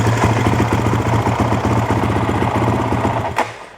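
A Honda CRF450X dirt bike engine, fitted with a high-output stator and DC lighting kit, runs at a steady loud idle with a fast even chug close by, then cuts off near the end.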